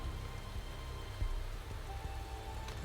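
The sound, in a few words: rain during race in video game Motorsport Manager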